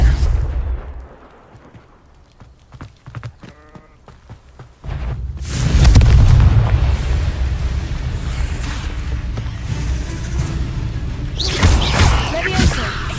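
Confringo spell blasts in Hogwarts Legacy gameplay, loud booming explosions with sustained rumbling roar following, after quieter game sounds and footsteps.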